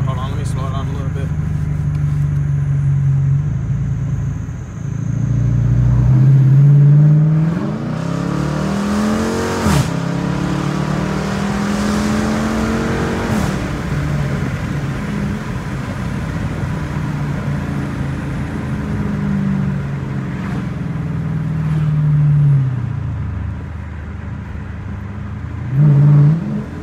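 A Dodge Challenger R/T engine revs hard while driving through a neighborhood, rising and falling in loud accelerating pulls with gear changes and a steady cruising rumble between, while someone talks over it.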